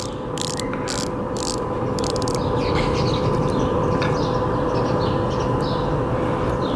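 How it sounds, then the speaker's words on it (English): A Seiko SKX diver watch bezel ratchets as it turns, giving bursts of rapid clicks in the first couple of seconds and then fainter ticks over a steady background hum. "Nice, smooth bezel action here."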